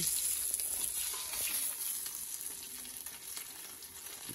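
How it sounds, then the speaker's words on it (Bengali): Katla fish pieces frying in hot oil in a pan, a steady close broadband sizzle with crackle that holds evenly throughout, with no voices. "মাছ ভাজা হয়ে গেছে"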